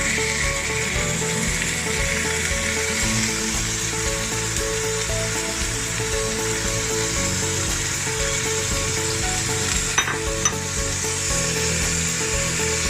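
Ground pork frying in a pan, a continuous even sizzle with faint scraping and stirring throughout, one short sharp clink near the end, no talking.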